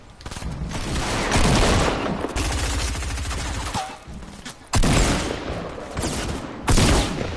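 Sustained gunfire in Fortnite: dense rapid bursts and repeated heavy shots that cut in and out at close range, loud and continuous with brief pauses between volleys.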